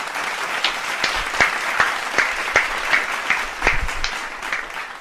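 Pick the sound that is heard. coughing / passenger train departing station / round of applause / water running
round of applause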